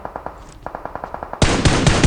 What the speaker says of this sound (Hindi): भाई इसकी गोलियां रुक ही नहीं रही